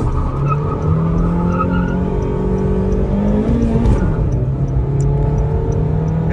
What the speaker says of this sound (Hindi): इसके हम इसको 0 to 100 अचीव करके देखते हैं,